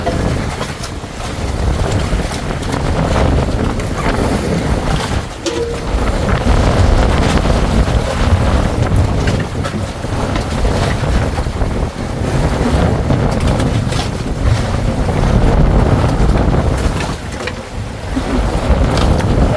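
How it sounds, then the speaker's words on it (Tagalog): Strong wind roaring steadily into the microphone, a loud continuous buffeting rush with rumbling gusts and water splashing underneath. "grabe hangin."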